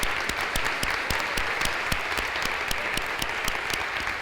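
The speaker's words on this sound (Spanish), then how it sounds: "Y además un aplauso" An audience at a talk gives steady, dense applause with many overlapping claps, held at an even level from start to finish and alone without talk.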